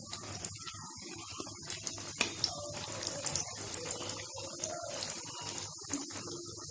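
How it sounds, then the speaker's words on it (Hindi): Thekua fries in hot ghee on a low flame, a steady close hiss and fine crackle running throughout without pause. "हम ठेकुआ को लो फ्लेम पे ही फ्राई कर लेंगे"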